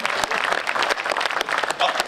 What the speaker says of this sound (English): please give a huge round of applause for all our candidates